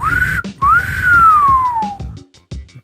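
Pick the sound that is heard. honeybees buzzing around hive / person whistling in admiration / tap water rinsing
person whistling in admiration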